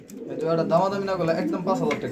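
Pigeons coo nearby in soft, throaty, warbling calls, close and continuous for a couple of seconds.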